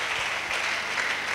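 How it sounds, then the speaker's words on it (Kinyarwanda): A church congregation claps loudly and continuously, a dense wash of applause filling the room without pause during a prayer and fasting service. "Reka dukomere Yesu amashyi menshi"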